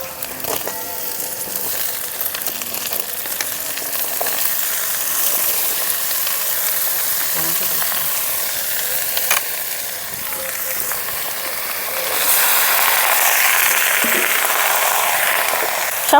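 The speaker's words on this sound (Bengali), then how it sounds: "সামান্য একটু ভাজা ভাজা করার পরে সব সবজিগুলো অ্যাড করে দেব।" Grated ginger, onion and vegetables fry in oil in a pan for a village-style small river fish curry, giving a continuous crackling sizzle with scraping and clinking of stirring, growing louder toward the end.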